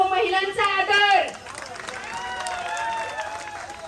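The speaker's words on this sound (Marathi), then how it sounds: "जोरदार टाळ्या झाल्या पाहिजेत" An audience at a Home Minister Paithani game show at Hadapsar vegetable market claps after a woman recites an ukhana; the applause rises under a man's loud speech, then continues as a lighter scattered clapping with faint crowd noise.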